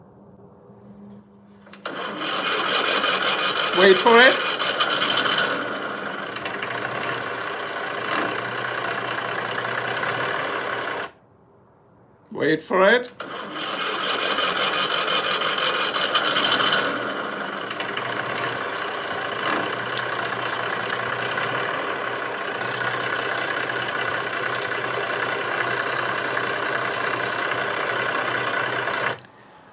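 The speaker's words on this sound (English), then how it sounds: "That is the good old Mack truck." A Mack truck V8 idling, heard as a played-back recording: a steady, heavy mechanical rumble that cuts out briefly midway and then resumes, with a voice speaking briefly.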